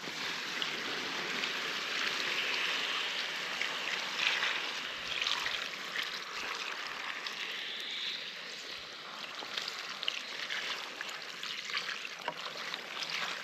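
Rain falling outside a tent with a wood stove gives a steady, fine hiss and patter of drops, soft and continuous throughout with small irregular ticks and no talking.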